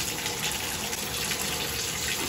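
Water runs from a shower faucet in a steady, close, broadband gush, unbroken throughout with no voices.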